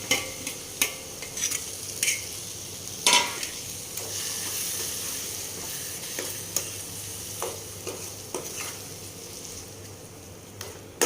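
Mashed roasted eggplant (baingan bharta) stirred and frying in a pan, with a steady sizzle and repeated scraping clicks of a spoon against the pan, close and clear, with no talking.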